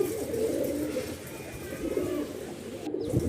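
Soft, low Rajshahi Giribaz pigeon coos roll repeatedly in a steady murmur, close by, with no talking.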